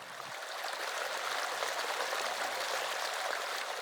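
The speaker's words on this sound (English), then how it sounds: "The famous water staircase still leads down through the grounds today." Water steadily rushing and splashing down the stone water staircase in the Alhambra gardens in Spain, a continuous close, even flow with no voices.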